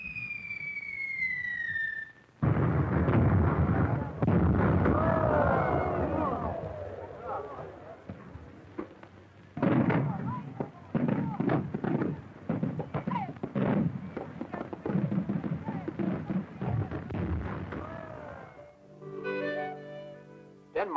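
Fireworks burst over Tivoli Gardens in a dense run of sharp bangs and crackles at varying distances, with a whistling rise at the start and a brief quiet gap midway.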